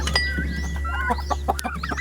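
A large chicken clucks close by in a pen, a run of short, choppy clucks and squawks over a steady low hum, with no talking.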